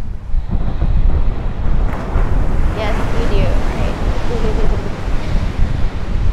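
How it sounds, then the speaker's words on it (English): Ocean surf and gusting wind on a beach in Maui, Hawaii, a loud, continuous rush with wind buffeting the microphone, while someone speaks briefly over it. "the sound of the ocean"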